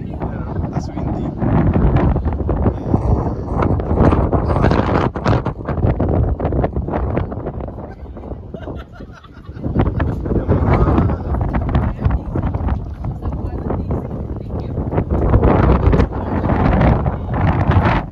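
Strong wind buffets the microphone outdoors at a farm ice cream stand in Bristol, Connecticut, roaring in gusts throughout with a brief lull midway, while people talk underneath.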